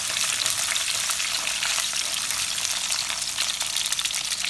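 Garlic sizzles loudly and continuously in hot oil for a fish curry, a dense, close frying crackle with no talk.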